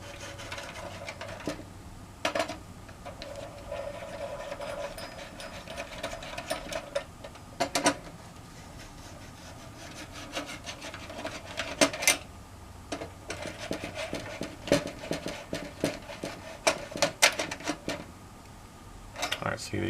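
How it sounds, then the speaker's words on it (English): Small screws being backed out of a PS3 Slim with a 3.5 screwdriver, giving soft repeated ticks and scrapes at close range in a quiet room over a faint background hum. "So we're going to remove these real quick. I'm going to need a bigger screwdriver."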